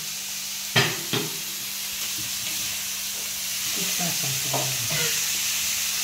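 Chana dal and green chilies stir-frying in oil, a continuous sizzle with a couple of sharp scraping stirs near the start and softer stirring clatter later, no talking.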